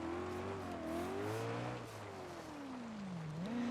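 Simulated car drifting in the BeamNG driving game with the handbrake pulled, a sustained engine drone that rises and falls in pitch as the revs swing, loud and continuous with no talking.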